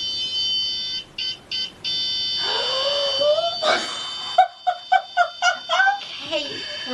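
A REM pod paranormal detector sounding, with a steady electronic tone followed by rapid pulsing beeps and rising warbles, mixed with voices talking nearby.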